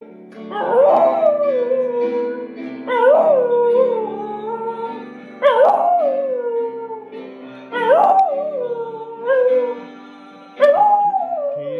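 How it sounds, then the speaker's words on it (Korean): A dog just over a year old howls in a video played aloud during a church sermon. Five loud, drawn-out howls rise and fall at regular intervals of about two to three seconds, with short quiet gaps between them. "1년이 조금 넘은 강아지의 이름은 코코입니다."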